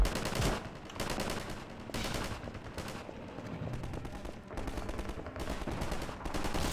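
Rapid bursts of gunfire in the video game Half-Life 2, several loud automatic volleys separated by brief pauses and repeated throughout.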